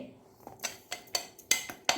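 Ground spice powder for chicken fry masala being scraped with a spoon from a grinder jar into a vessel: a quick series of sharp metallic taps and clinks, close and moderate, with no speech.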